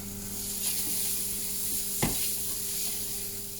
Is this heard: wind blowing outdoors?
no